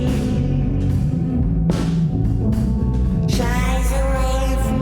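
Formant-shifted vocals in an FL Studio song, a dense processed sung phrase over a full beat, the voice timbre pushed unnaturally thin and then brighter near the end, loud and continuous.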